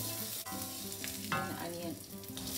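Garlic sizzles steadily in hot oil in a pan for a South Indian breakfast dish, with a spoon scraping and stirring through it in short close strokes over the constant frying hiss.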